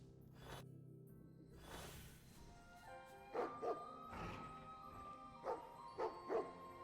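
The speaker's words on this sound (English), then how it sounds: "Dog barking." A dog in the video game AFK Journey barks in a few short yapping bursts, clustered in the second half over soft game background music, fairly quiet.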